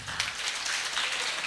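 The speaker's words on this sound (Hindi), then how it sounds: "प्लीज जोरदार ताली होनी चाहिए।" An audience at a police awareness program on child protection applauds, a dense wash of many hands clapping at once, steady and fairly loud throughout the short burst.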